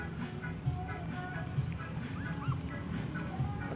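Small puppies whimper and yip in a run of thin, high cries, close by, over a steady low background noise.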